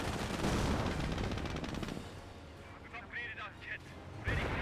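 Bursts of captured MG42 machine gun fire in the strategy game Company of Heroes, dense rapid rattling for the first two seconds, then quieter battle noise with brief chirps and a final burst, under a commentator's voice.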